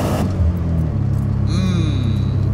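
JDM Subaru Legacy twin turbo engine revving hard as the second turbo comes on, a loud rising rumble with a high turbo whistle emerging in the latter half; a voice calls out briefly over it.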